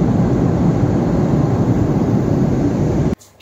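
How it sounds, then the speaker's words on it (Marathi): Inside a passenger airplane as it lands, a loud, steady cabin roar rumbles continuously, then cuts off abruptly near the end. "कारण विमान लँडिंग होत होतं"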